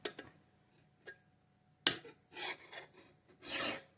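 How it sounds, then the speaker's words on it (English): A hand file rasps across the edge of a rusted axe in a few separate short strokes with pauses between them, close and fairly crisp, with no speech. "right now we're getting over here just to do a little more filing here"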